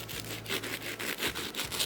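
A serrated knife saws through a crispy, crunchy oven-baked sandwich with toasted bread and stringy beef inside, giving rhythmic rasping crunches, close and fairly loud, with no talking.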